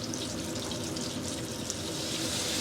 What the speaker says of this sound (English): This is the wine we're pouring in.